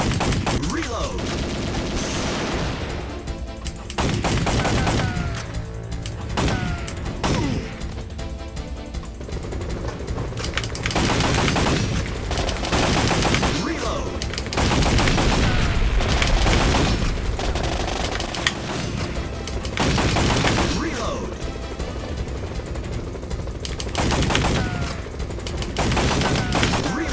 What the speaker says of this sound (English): God, that takes some shooting.